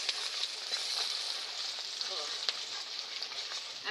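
Broiler chicken fries in a pan with onion and whole garlic cloves, giving a steady, close sizzle with crackling pops and an occasional stirring scrape, with no talking over it.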